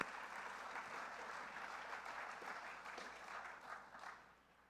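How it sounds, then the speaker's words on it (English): Audience applause in a city hall auditorium during a mayor's State of the City address, a dense steady wash of many hands clapping at moderate distance that thins out and fades toward the end. "Thank you, we should clap."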